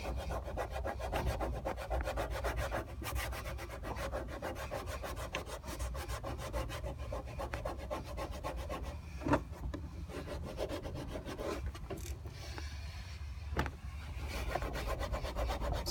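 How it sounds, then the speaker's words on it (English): A microfiber cloth soaked in alcohol scrubs leftover adhesive residue off a mounting plate, making steady, close, back-and-forth rubbing that runs continuously with a couple of sharper scuffs. "We're using that microfiber cloth."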